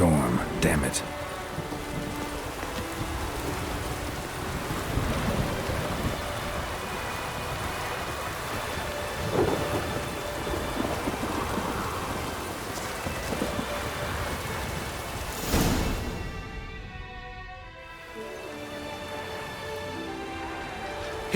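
A rainstorm with thunder in The Witcher 3: Blood and Wine pours steadily throughout, with a sharp surge near the end, while voices speak over it.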